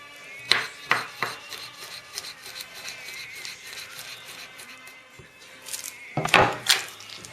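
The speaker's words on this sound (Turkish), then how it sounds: "Fazla kirlenmeden sarımsakları da doğrayalım." Garlic is chopped with a knife on a cutting board while cooking a tomato dish, giving a few sharp, close knocks and scraping taps in separate bursts with quieter gaps between.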